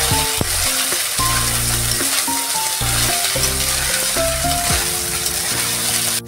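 Drained rice and fried vegetables are stirred in a pan for fried rice, a loud continuous sizzle with frequent rhythmic clanks and scrapes of a metal spatula against the pan.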